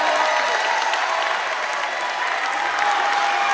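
A basketball crowd of Weslaco Panther fans gives steady, dense applause that holds at an even level throughout, with faint voices mixed in.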